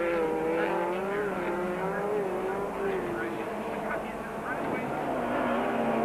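1997 Super Series race cars, including a Radflow Dart, roar around a track in a loud, sustained engine drone with shifting pitch as they battle for position, with commentary over the top.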